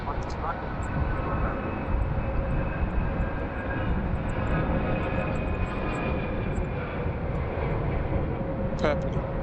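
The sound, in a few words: airplane at Sydney Airport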